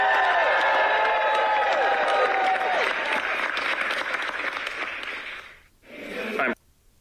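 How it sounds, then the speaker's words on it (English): A crowd at a bill signing for a millionaires' tax breaks into sustained applause and cheering, loud and steady, then fades and cuts off briefly before a short final burst. "So the people are cheering that we have just increased on the millionaires"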